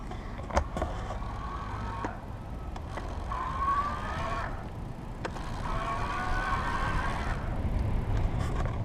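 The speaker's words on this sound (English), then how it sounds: "there's some noise associated, and that's because I'm pedaling in like an easier gear, a lower gear" An Easy Motion Bosch City Wave e-bike makes a steady whirring, rattling drivetrain noise while it is pedaled in a low, easy gear. The noise is continuous and fairly close, with a few faint clicks mixed in.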